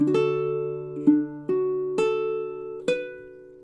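Baritone ukulele picks measure 10 of a song, five clear plucked notes and chords ringing out one after another at a slow, even pace, close and alone.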